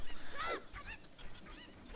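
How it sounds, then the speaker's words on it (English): Cucco chickens from the video game The Legend of Zelda: Ocarina of Time, giving a few quick honking clucks and squawks in a short burst, moderately loud with no talk over them. "my least favorite part of the run is the cuckoos"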